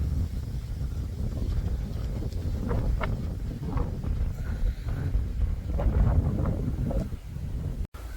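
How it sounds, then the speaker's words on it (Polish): Strong wind buffets the microphone at Hadrian's Wall with a constant low roar and rumble, gusting in waves throughout. "Strasznie wieje."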